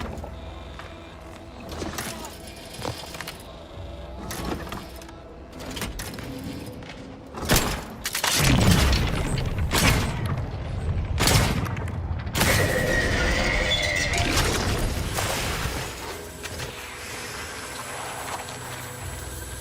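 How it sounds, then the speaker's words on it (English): Shooting at a robot in The Outer Worlds 2: a run of sharp, loud gunshots and metallic impacts clustered mid-stretch, with mechanical clanks and creaks before and after. "I'm shooting him just to see if you get XP."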